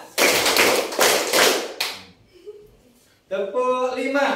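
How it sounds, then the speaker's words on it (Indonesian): A group performs four claps in an ice-breaking clapping game, loud, close, quick slaps in the first two seconds, followed by a pause and then a person talking. "Tepuk 4"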